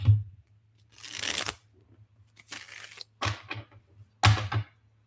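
Tarot cards being shuffled by hand, several separate bursts of riffling and card slapping with short quiet gaps between them, close and clear.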